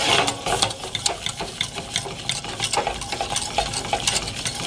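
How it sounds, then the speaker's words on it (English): A whisk beats milk into a roux in a pan, giving fast, continuous scraping and sloshing strokes at an even rhythm, close and clear with no talking. "I'm going to pour it in slowly as I whisk."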